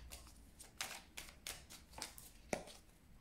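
A deck of oracle cards being cut and handled, a quiet series of soft papery slaps and shuffling flicks, close and irregular, with no talking.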